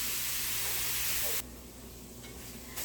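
Ground meat browning in a hot skillet gives a steady, loud hissing sizzle that abruptly drops to a quieter sizzle partway through.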